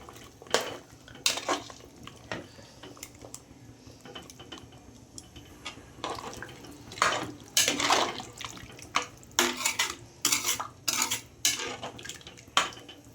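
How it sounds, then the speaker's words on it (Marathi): A spoon stirs chicken soup in a pressure cooker, with irregular close metallic clinks and scrapes against the pot over a quiet background. "छान मिक्स करून घ्यायचं याला."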